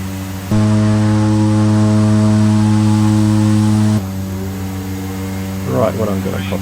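The twin turboprop engines of a DHC-6 Twin Otter in Microsoft Flight Simulator 2020, flying from Kathmandu toward Lukla over the Himalayas, hold a loud, steady droning tone, then drop to a lower hum as a voice begins speaking.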